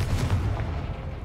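A Confringo blasting spell explodes in the Hogwarts Legacy video game as one short, deep, booming blast that rumbles low and loud for about a second.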